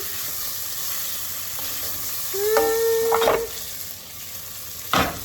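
Thick cut bacon frying in a pan, a steady close sizzle with a brief rising whistle-like tone and a few stirring clicks.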